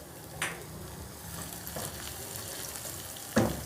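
Steady frying sizzle from a pot of onions as ground ginger goes in, with a couple of brief stirring clatters near the start and a sharper scrape at the end; no talking.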